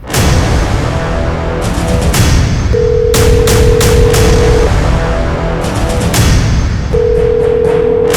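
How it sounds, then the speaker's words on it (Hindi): A loud, steady telephone dial tone and ringback while a call is being placed, with repeated sharp clicks and bursts layered over a constant hum and brief tones recurring through the call. "फोन लगाती हूँ।"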